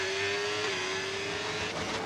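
A racing car in a video game holds a steady high engine whine at speed, rising slightly in pitch, loud and continuous with no voices.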